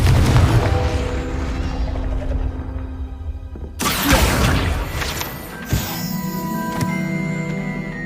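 A Confringo fire spell cast in the video game Hogwarts Legacy: a deep booming blast opens over a rumbling background, then a sudden bright crackling burst and a second sharp impact follow, with lingering whooshes and game ambience.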